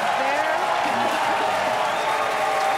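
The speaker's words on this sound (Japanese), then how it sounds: "歓声が上がるんですよね" Crowd cheering and applauding at a SpaceX rocket launch, a continuous, dense roar of many voices and clapping at steady loudness, with a voice speaking over it.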